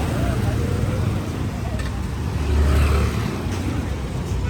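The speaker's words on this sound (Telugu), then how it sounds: "ఈ చిన్న చిన్న గలీలలో ఇట్లా ట్రాఫిక్ ఉంటుంది." Road traffic crowds narrow lanes near a college, a steady rumble of passing cars and motorbikes with an engine swelling louder midway, heard up close beneath a person talking.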